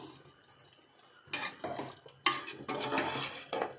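Brinjal masala curry stirred in a pot after water is added, a spoon scraping and sloshing in a few short, uneven bursts, close by with no voices.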